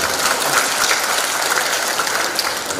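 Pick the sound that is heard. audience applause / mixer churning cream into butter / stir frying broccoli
audience applause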